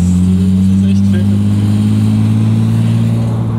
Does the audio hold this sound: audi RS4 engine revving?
yes